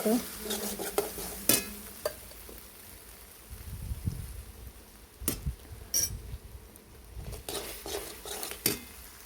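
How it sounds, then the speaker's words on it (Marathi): A spoon scrapes and clanks against a pan in uneven bursts while frying spice paste for drumstick curry, with a light sizzle of frying underneath. "मसाला छान परतून घेणार आहोत"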